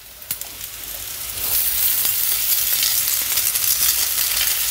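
A bowl of cooked rice hits a hot pan for paneer fried rice, breaking into a loud, close, continuous sizzle that swells after the first second, with a few scraping stirs near the start.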